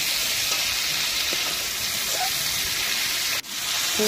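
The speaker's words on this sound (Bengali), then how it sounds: "আমি পেঁয়াজটা দিয়ে দিলাম। পেঁয়াজটা ভালো করে আমি লাল লাল করে ভেজে নেবো।" Onion frying in hot oil just after prawns have been lifted out of the pan, a steady broadband sizzle with a brief dip near the end, faint clinks underneath, no voices.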